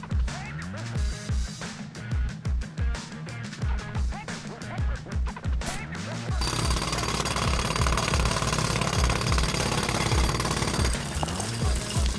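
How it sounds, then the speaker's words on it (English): Repeated jackhammer-style drilling into the ground beneath a treatment facility reservoir in the TMNT Mutants Unleashed video game, loud rhythmic bursts giving way to a continuous grinding roar. "Drill here? Yep, here's good."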